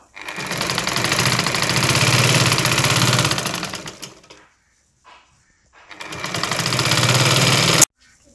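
A sewing machine stitching lace onto a saree border runs in a loud, fast, even whir for about four seconds, stops briefly, then runs again for another two seconds before halting.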